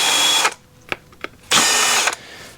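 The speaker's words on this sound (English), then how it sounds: "Then I take a countersink bit and just get rid of the little sharp burrs that creates." A power drill fitted with a countersink bit deburrs a drilled hole in a Willys Jeep CJ-2A brake light switch cover, two short whirring bursts separated by a few faint clicks, close and loud.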